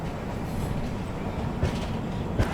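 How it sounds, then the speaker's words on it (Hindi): The Lucknow AC Superfast Express, train 12430 from New Delhi, arrives at Bareilly Junction with a steady, loud, close rumble of wheels on rail and a couple of sharp clanks near the end. "अपनी Lucknow AC superfast express arrive कर रही है बरेली"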